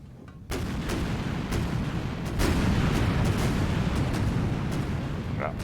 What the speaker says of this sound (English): let's look at this guy panicking, seeing this barrage of missiles coming towards them